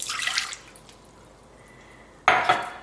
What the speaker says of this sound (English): So I'm gonna use about 4 ounces of water.